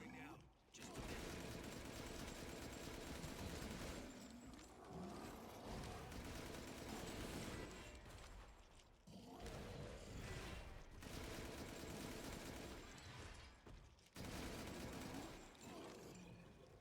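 Heavy, near-constant gunfire pours into a boss's exposed back in Resident Evil Village. The shooting comes in long loud stretches broken by a few short pauses, with a voice talking faintly underneath.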